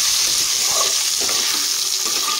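Large boiled potato frying in oil with whole white cumin seeds, a steady close sizzle and hiss running continuously without pause, no talking.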